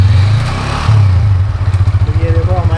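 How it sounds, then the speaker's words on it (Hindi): A Yamaha R15 V4 motorcycle, fresh engine oil just added, cranks in neutral and fires up, a loud close starter whir giving way to a rapid, pulsing idle. "तो ये देखो हमारी बाइक फर्स्ट क्रैंक ले चुकी है"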